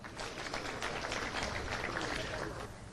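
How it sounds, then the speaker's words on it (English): A Rotary Club audience applauds its new president with steady, dense clapping from many hands that holds at an even, fairly loud level throughout. "Let's give him a hand clap."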